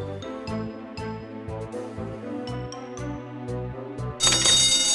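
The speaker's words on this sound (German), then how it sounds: "Das Telefon klingelt." A telephone rings in a children's fire-brigade cartoon, repeating electronic trills in a regular rhythm over a bouncy musical backing, followed near the end by a bright burst of sound.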